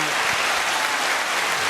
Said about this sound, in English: Don't applaud me that damn long.